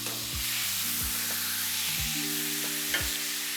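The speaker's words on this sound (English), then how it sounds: "To get that, you want to sear it for 2 minutes on each side." Pork chops sear in a hot pan with a steady, close sizzle hissing throughout, while sustained tonal notes run underneath.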